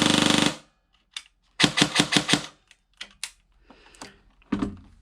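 A G&G TR16 airsoft rifle, a limited edition model run on an 11.1 V lithium-ion battery, fires a short full-auto burst of rapid mechanical clacks up close, followed by a few scattered clicks and handling noises.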